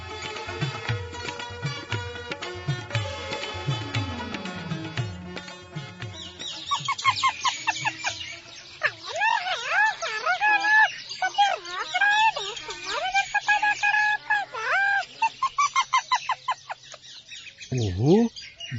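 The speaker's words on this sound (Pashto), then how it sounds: "اوهو دا غږ خو د توتي او نورو مرغانو دی چې د ګلانو په کوټه کې څه کوي" Parrots and other birds chatter and squawk noisily in a room full of flowers, a dense overlapping flurry of calls after a musical opening, ending with a short vocal sound.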